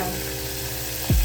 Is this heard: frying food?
yes